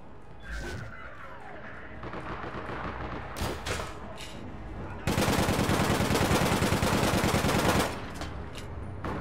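Bursts of automatic gunfire and explosions during an online shooter match in APB Reloaded, with a long dense stretch of rapid fire in the middle and scattered shots around it, loud and close.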